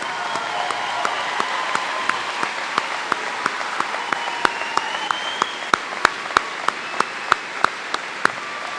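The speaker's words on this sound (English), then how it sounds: "Graduates, give them a round of applause." High school graduates applaud their standing parents and guardians at a graduation ceremony, a broad wash of crowd clapping with sharp individual claps ringing out more loudly toward the end.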